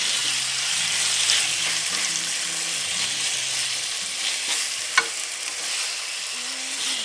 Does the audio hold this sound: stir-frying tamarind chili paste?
yes